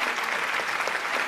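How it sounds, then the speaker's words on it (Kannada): Loud, continuous clapping from an audience at the Chittara Star Awards 2024 ceremony as Ashwini Puneeth Rajkumar receives an award, an even burst of many hands held at a steady level throughout. "ಬನ್ನಿ, ಜೋರಾದ ಚಪ್ಪಾಳೆ ಬರಲಿ."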